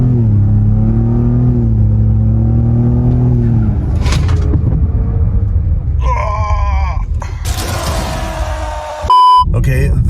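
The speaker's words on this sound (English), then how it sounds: "You can hear the big 37 Toyo tires and VR Forge wheels definitely doing some skids" A 2020 Ford Raptor with 500+ hp, Baer big brakes, 37-inch Toyo tires and VR Forged wheels makes a 50-to-0 full stop: a low engine rumble under speech gives way to loud, squealing tire skids near the end.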